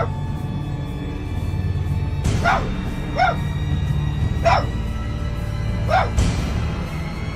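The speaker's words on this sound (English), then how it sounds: "the dog's barking intensifies, and you can even hear the fear in it" A dog barks several times, each bark sharp and spaced a second or so apart, heard at a moderate distance over steady background noise at night.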